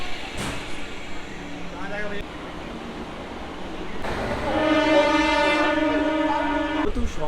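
A local passenger train departing from Howrah, with a long, loud, steady horn blast sounding through the second half over low rail rumble and general station noise.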